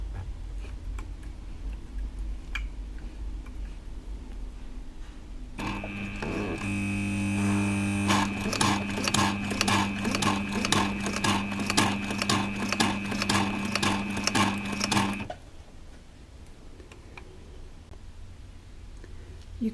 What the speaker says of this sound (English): The machine was a little bit upset to begin with, but it did actually go through the leather quite comfortably.